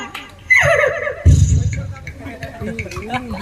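A person imitates a horse whinnying, a loud rising and falling neigh followed by snorting, with crowd murmur behind it.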